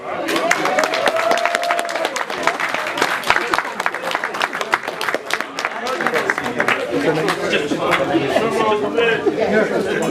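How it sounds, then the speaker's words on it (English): Audience clapping at a speakers club evening, a dense spread of hand claps running steadily throughout, mixed with chatter and voices talking over it. "Come on, give her a clap."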